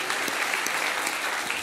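A church congregation applauding, a steady dense patter of many hands clapping together, fairly close and sustained without a break.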